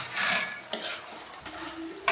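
A spoon scrapes and clinks in a pan while fried idli pieces are stirred into thick sauce, a few close metallic taps and wet shuffling strokes in quick succession, no talk.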